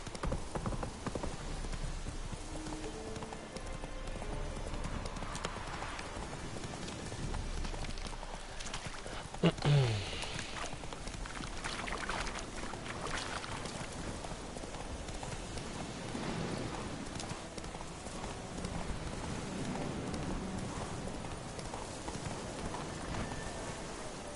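Roach, a horse in The Witcher 3, trots with a steady clip-clop of hooves at moderate distance, joined by a brief snort or whinny partway through over a soft ambient bed.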